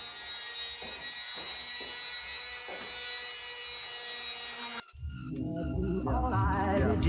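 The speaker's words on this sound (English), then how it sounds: "I'm going to use my rotary tool with a wire attachment and chip away at any of the loose paint and loose seam sealer" A rotary tool with a wire brush attachment scrapes loose paint and seam sealer off car body panels. A steady abrasive whir with rhythmic rubbing strokes runs for about five seconds, then gives way to a louder, different sound.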